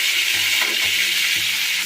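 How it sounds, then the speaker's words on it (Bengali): Slit pointed gourds frying in hot oil in a pan, a loud, dense, continuous close sizzle with no voices over it. "এবার লাল লাল করে ভেজে নেব।"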